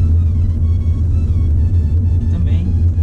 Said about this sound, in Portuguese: E agora vamos andar, né?